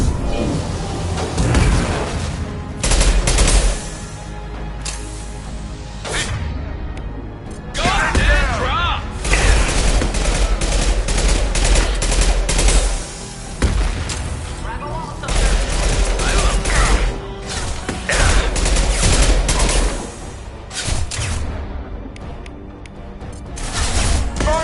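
Loud, dense gunfire from Mass Effect Legendary Edition combat on PS4, bursts of rapid shots and blasts in clusters with brief lulls, mechanical weapon sounds mixed in.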